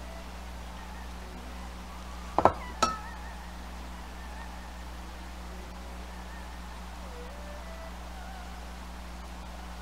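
Dishes clinking while egg drop soup is plated, two quick bright clinks of crockery close together against a quiet, steady room hum.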